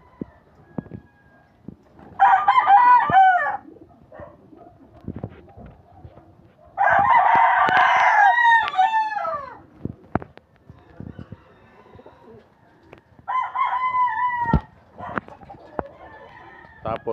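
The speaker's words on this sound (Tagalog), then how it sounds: "Ito yung mga hen." Backyard chickens, hens with a rooster, make soft scattered clucks and scratching noises, broken by three loud rooster crows a few seconds apart, up close and with no talking.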